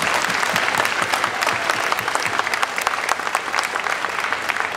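Audience at a Ukrainian festival in Bloor West Village claps steadily and densely for several seconds, a sustained wash of many hands with no voices rising above it.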